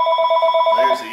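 A telephone ringing inside a Jeep Liberty, a loud, close, rapid warbling electronic ring pulsing about ten times in a second before stopping.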